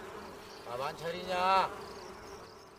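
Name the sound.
bees buzzing around beehives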